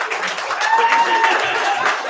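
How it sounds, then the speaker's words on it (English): A modest crowd at a poetry and pints open-mic night gives a brief, fairly light round of applause, with scattered voices and a little laughter mixed in. "I'm going to give a special round of applause for these two"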